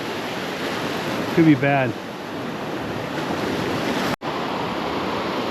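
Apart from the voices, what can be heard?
ocean surf waves at Padre Island beach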